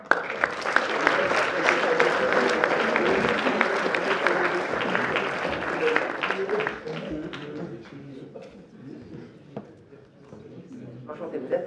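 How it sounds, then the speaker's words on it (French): A theatre audience at a mentalism show applauds a volunteer coming up on stage, a full crowd of clapping that holds strong and then thins and fades toward the end. "On l'applaudit bien fort."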